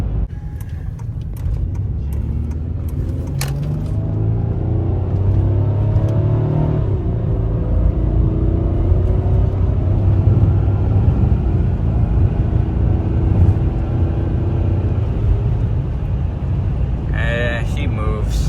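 A newly bought daily-driver car rumbles along on the road, its engine droning low and steady with a slight rise in revs, loud and close from inside the cabin, with a brief clatter near the end.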